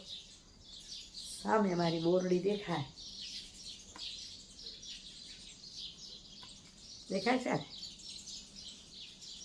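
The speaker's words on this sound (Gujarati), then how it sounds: "એમાંથી સંભળાયેલો છે પંખીઓનો કલરવ" Dense high-pitched bird chirping at dawn runs steadily through the background while someone speaks twice, briefly, in the foreground.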